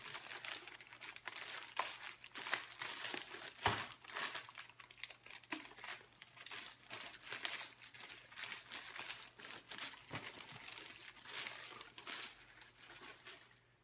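Plastic and paper packaging crinkles and crumples continuously as a Freewing T-45 model jet is unboxed, with irregular close, fairly quiet rustles and tearing.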